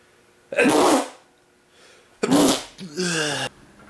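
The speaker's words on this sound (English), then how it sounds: "I gotta sneeze." Two loud, close sneezes come a second apart, and the second is followed by a short voiced sound.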